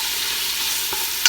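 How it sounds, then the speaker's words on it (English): Onion sautéing in a mix of melted ghee and butter, giving a steady soft sizzle with light stirring. A brief sharper clink lands near the end. "I am going to saute up an onion"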